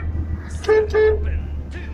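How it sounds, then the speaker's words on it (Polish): Two short taxi horn toots close by, the second slightly longer, over a low engine hum. "Będziemy sobie tak klaksonować, a dlaczego by nie?"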